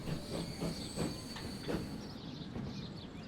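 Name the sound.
express train arriving in Transport Fever video game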